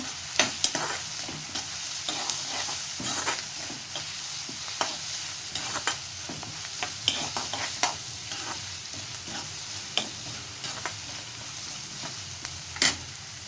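Onions sizzling and frying in a pan for paneer cheese dosa, with repeated scraping strokes of a spoon stirring at an irregular rhythm, close and clear.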